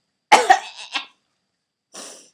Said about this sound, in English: Oh no, I'm gonna cough.